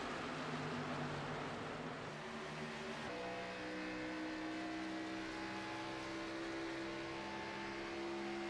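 Race cars roar through the early stages of a car race in a steady, dense engine drone with sustained, shifting tones, loud and continuous throughout, with no talking.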